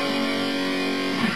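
Distorted electric guitar sustaining a power chord from a riff, a dense, gritty overdriven tone ringing steadily and closely, shifting slightly at the end, with no talking.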